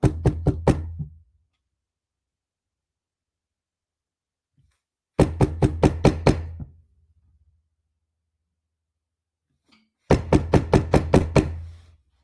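Three bursts of sharp, loud knocking on a door, each a quick run of about six to eight raps, separated by several seconds of silence.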